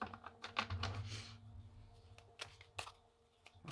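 Tarot cards being reshuffled by hand, a soft quiet riffle and flutter followed by scattered light taps and clicks of cards, close but faint.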